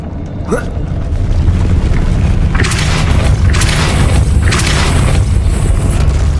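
Depulso spell cast in the video game Hogwarts Legacy, a loud deep boom that swells into a sustained rumbling, crackling burst lasting several seconds.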